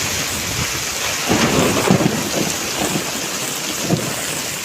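Deep rumbling thunder rolls under a steady roar of heavy monsoon rain pouring down nearby in Mumbai.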